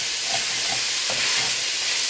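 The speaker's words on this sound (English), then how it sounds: "Here's that sausage cooking" Sausage frying in a pot for Zuppa Toscana gives a steady, loud sizzle, with soft scraping and stirring noises mixed in throughout.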